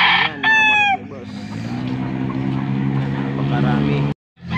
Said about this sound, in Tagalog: Ayan, mga manok ni boss.